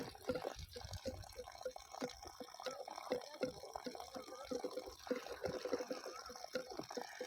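A homemade water pump gurgles faintly inside a drum, with irregular bubbling glugs and trickling water repeating throughout under quiet background noise.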